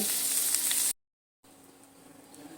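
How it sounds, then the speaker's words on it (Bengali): Cauliflower florets frying until browned in a wok, a steady bright close sizzle that cuts out to silence for half a second, then returns quieter. "ফুলকপিগুলো আমি এখানে নেড়ে চেড়ে সুন্দর করে লাল করে ভেজে নিয়েছি।"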